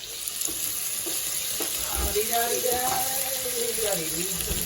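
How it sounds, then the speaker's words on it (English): Chilli con carne with tomato puree being stirred in a pan, a steady close sizzle with scraping stir strokes and a brief voice murmuring partway through. "let's give that a stir"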